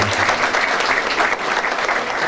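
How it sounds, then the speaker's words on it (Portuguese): An audience at a 2016 award ceremony in Ouro Preto gives sustained applause, an even wash of many hands clapping for a couple of seconds with no speech over it. "Uma salva de palmas para o nosso comunicador."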